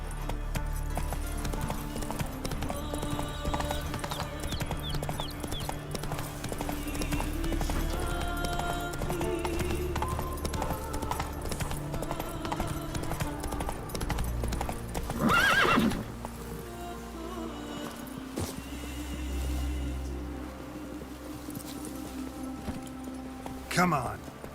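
Horse galloping in The Witcher 3 video game, a steady clip-clop of hooves with neighing and whinnying over a continuous background, alongside a speaking voice.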